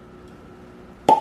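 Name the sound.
cork popping from a Parker's Heritage bourbon bottle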